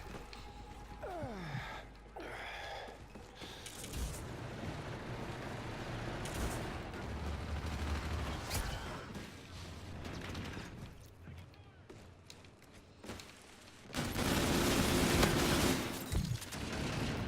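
Gunfire from akimbo weapons in an Infinite Warfare multiplayer team deathmatch, with scattered shots and bursts over dense game noise, ending in a louder volley.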